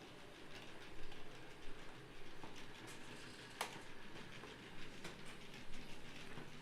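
Dinmore Manor locomotive on a modular model railway layout running along the track with a faint, steady rolling rattle and scattered light clicks, a sharp tick near the middle and a louder knock at the very end.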